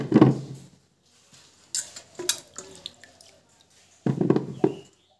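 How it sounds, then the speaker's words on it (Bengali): Olives are swished and rinsed by hand in a large bowl of water for pickling, giving splashy bursts at the start and end with faint drips and clinks of the bowl between, close and alone. "একটি বড় পাত্রের মধ্যে জল নিয়েছি, তারপর জলপাইগুলোকে ভালো করে জলের মধ্যে ধুয়ে নিচ্ছি।"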